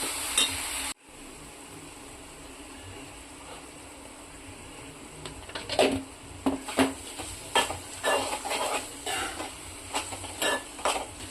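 Spice masala with chilli powder and ground tamarind-leaf paste sizzles softly in a pan while a spoon scrapes and clinks through it in uneven bursts, close by, with no talking.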